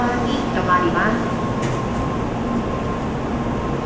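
Shinkansen N700A train at JR Shin-Osaka station, a steady heavy rumble and hum of the train moving along the platform, with a faint voice in the background.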